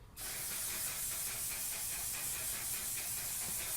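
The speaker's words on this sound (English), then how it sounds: "One Size Final Setting Spray. This is to really seal it all in." A steady, hissing spray of makeup setting spray runs without a break for a few seconds after a sudden start, soft and close.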